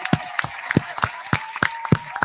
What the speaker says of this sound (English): Clap Clap for the kids.